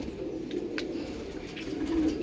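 Pigeons of a kept blood line, including black birds, coo softly in a home loft, a low murmuring coo repeating faintly against steady background noise.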